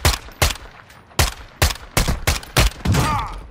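Video game match gunfire cracks out in loud, punchy shots spaced unevenly, about eight reports with short gaps, ending in a denser cluster of fire up close.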